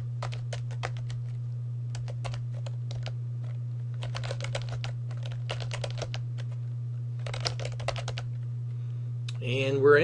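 Bursts of typing on a computer keyboard in quick irregular runs separated by pauses, close and clear over a steady low electrical hum, with a brief louder shift at the end.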